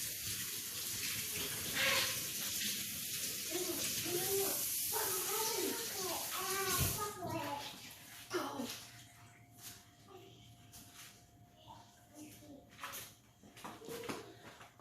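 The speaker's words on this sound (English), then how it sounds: "I'm gonna go ahead and wash my tentacles and my fins while I'm at it." Running tap water splashes over squid tentacles and fins in a sink, a steady rushing flow that breaks into intermittent splashes and trickles, with a person talking over part of it.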